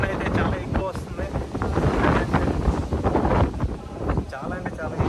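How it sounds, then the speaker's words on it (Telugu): Strong storm wind gusts steadily and loudly throughout a sudden toofan, with roaring buffeting noise on the microphone and voices faintly audible underneath. "గాలి అయితే ఆగట్లేదు అసలు"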